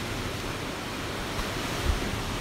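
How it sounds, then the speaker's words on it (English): Ocean waves wash steadily in a broad, even surf roar with a faint touch of wind, alone and with no voices. "I can hear the waves. Yes, the waves are so beautiful."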